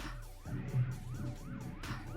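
A police siren from a video game wails in a rising and falling pattern, steady and fairly loud over a low engine hum, with no talking over it.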